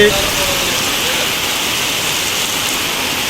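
Heavy rain pours steadily and loudly on an outdoor loading scene, soaking the goods on a vehicle, a dense unbroken wash of noise that stays even throughout.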